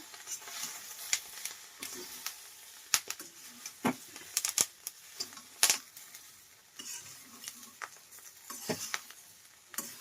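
Ginger and cumin frying in a pan, a faint soft sizzle under frequent clinks and scrapes of a spoon stirring against the metal.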